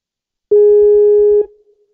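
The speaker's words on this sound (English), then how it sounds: "It's very loud ringing." A loud, steady electronic telephone tone sounds once for about a second, then cuts off abruptly, leaving a faint fading hum.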